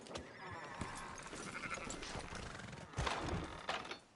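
Sheep bleating in the video game Red Dead Redemption 2, several overlapping bleats over a busy ranch bed with hoof clops, a louder bleat near the end, close and steady throughout.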